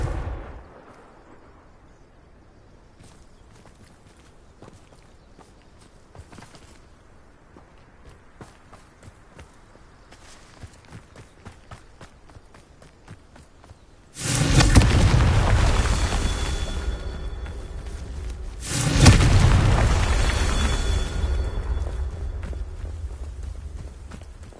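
Two loud, booming Confringo spell blasts in Hogwarts Legacy, each a sudden heavy explosion with a long rumbling tail, the second following a few seconds after the first, preceded by a long stretch of quiet footsteps and faint clicks.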